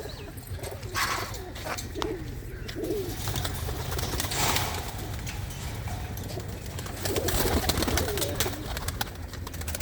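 Pigeons coo softly in repeated low murmurs over steady outdoor background noise, with occasional faint rustles and chirps.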